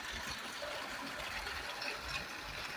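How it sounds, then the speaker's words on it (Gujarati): Water pours steadily into a small tank in a farm field, a continuous close rushing and gurgling flow with no break and no one talking. "પાણી જાય છે."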